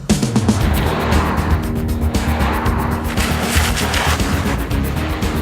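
A 2004 Ford Freestar minivan driving, a loud continuous engine and road roar with rapid, busy texture and a squealing tyre edge, no voices.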